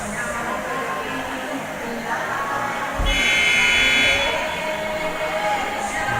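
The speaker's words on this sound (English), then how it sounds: "the buzzer sounds to get underway with set number 2" Buzzer in a gym at a high school girls' volleyball match, a loud sustained electronic tone of about a second over crowd noise and an announcer's voice.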